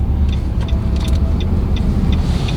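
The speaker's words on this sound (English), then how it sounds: "I'm running the car. The car is running now." A Nissan Rogue engine idles close by in a loud, steady hum, with a few faint metallic clicks or jingles on top and no one speaking.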